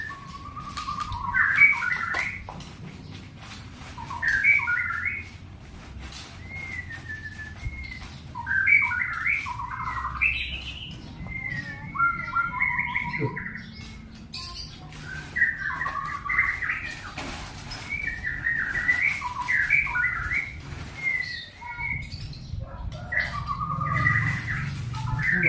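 A green leafbird (cucak hijau) sings in repeated short bursts of warbling, mewing notes that mimic a cat, clear and fairly close over a low, quiet background hum.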